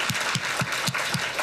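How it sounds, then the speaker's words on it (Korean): A church congregation applauding at a Christmas service, dense steady clapping with a regular rhythmic beat, close and moderately loud. "박수 한번 하겠습니다."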